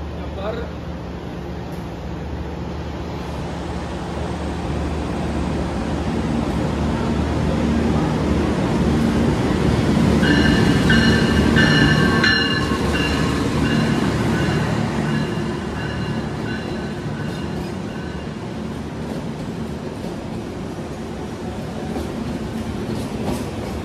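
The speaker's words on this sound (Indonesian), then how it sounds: "Nah itu keretanya udah muncul ya" A KA Pandalungan passenger train rumbles and clatters in steadily on the rails arriving at a station, with a high squealing brake tone rising midway, while people talk nearby.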